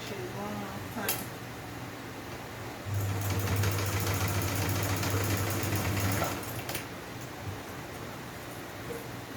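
A sewing machine stitching a satin-lined Ankara turban runs in a steady whirring hum for about three seconds in the middle, close and clear, with a voice talking quietly around it.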